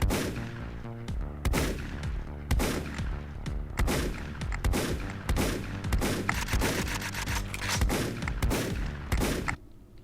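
Sustained bursts of gunfire from the arcade shooter Gun Chair, loud rapid volleys repeating in waves across the whole stretch with only brief gaps, fading out at the end.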